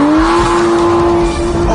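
An Aston Martin V12 Vantage S with very short, closely spaced gears on a track, its engine holding a loud, steady high-pitched wail that dips briefly as it shifts, heard close and alone.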